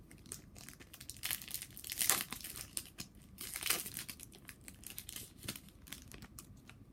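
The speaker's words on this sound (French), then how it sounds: "ouverture de 5 boosters de 16 cartes" Yu-Gi-Oh booster packs of 16 cards being torn open, a steady run of close crinkling foil and crisp tearing with louder rips near the middle, no voices.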